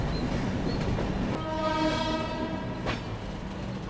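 A train pulls into Hazrat Nizamuddin station in Delhi with a continuous loud rumble of rolling wagons, and a sustained horn blast enters partway through over the running noise.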